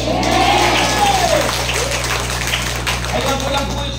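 Congregation applause at a charismatic El Shaddai worship service in Lipa City, Batangas: a dense, steady wash of clapping that fills the room, with a voice carrying over it.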